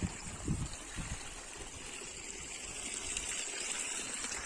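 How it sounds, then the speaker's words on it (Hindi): Water from a borewell runs and splashes in a steady, soft gush at a rural home garden, continuous and fairly quiet, with a few louder thumps near the start. "ये दे पानी अभी चला थे संगवारी हो, देखो बोर के पानी चला थे।"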